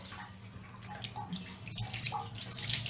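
Water poured close against a cat's body during a bath at home, a soft steady trickle and splash running continuously at low level with no voices.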